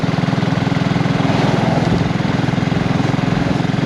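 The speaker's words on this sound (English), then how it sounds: "I'm in top gear and I'm just checking what it will bimble along at." A BSA Rocket Goldstar motorcycle cruises in top gear at a steady, relaxed pace, its engine a loud, close, continuous rhythmic thrum with an even low pulse and no change in pitch.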